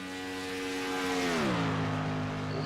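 A race car in a Daytona International Speedway racing game roars past on the front stretch, its engine note rising and then sliding down in pitch as it goes by, loud and alone.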